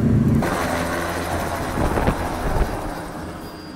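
A helicopter arrives over the deck of the Nigerian Navy ship NNS Okpabana, heard as a loud steady rotor and engine roar with a rhythmic beat, alone and without talk.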